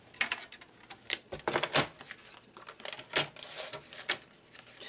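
Leftover cardstock being trimmed for a fall notepad cover, a close run of crisp papery cuts and snips in irregular bursts, with no talking.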